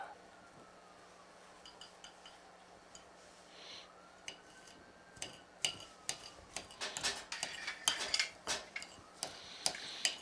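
A knife chops mushroom stems on a cutting board, the strokes sharp and close, starting sparse and then quickening into an uneven run of crisp knocks, with faint background noise under them.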